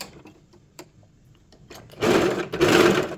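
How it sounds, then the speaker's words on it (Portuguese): An overlock sewing machine stitching a pet dress, starting with faint clicks and handling before two loud bursts of fast mechanical whirring run up close. "Agora, vamos costurar tudo na overlock."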